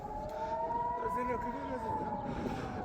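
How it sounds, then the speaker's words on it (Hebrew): Air raid siren sounding a missile attack warning in the Neot Hovav industrial zone of southern Israel, a loud, steady wail with a slight rise and fall in pitch, heard outdoors with a voice speaking over it. "אזעקה בוואדי אל-נעם, אין מה לעשות, יוצאים החוצה"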